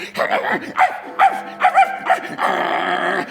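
A small dog barks and yips repeatedly in close, sharp bursts, with whimpering and growling between the barks, ending in a sustained whine.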